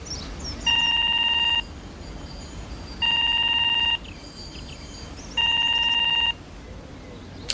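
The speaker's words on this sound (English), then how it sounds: "You're ringing, Mr. Beavers." A telephone rings in three electronic bursts, each about a second long with short pauses between, over a faint background hum.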